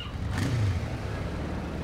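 In the video game Arma II DayZ, a moped engine reverses with a faint, steady motor drone. Its pitch rises briefly midway, then settles back to an even hum.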